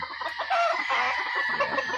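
Several roosters being transported clucking and crowing together at close range, a dense overlapping chorus of fowl calls with no talking.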